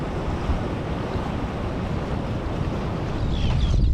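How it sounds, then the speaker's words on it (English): Steady ocean surf on the west coast where a mountain river meets the sea, a constant broad wash of waves with wind buffeting the microphone, and no voices. "We're here at the ocean on the west coast."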